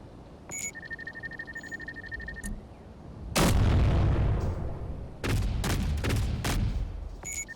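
A quadruped-mounted turret in Space Engineers firing: quiet mechanical whirring, then one sharp loud blast and a rapid cluster of repeated booming shots, each with a decaying rumble.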